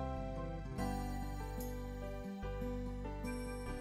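A phone's text message notification tone plays a sustained, melodic electronic chime that rings steadily and clearly for several seconds with no voices.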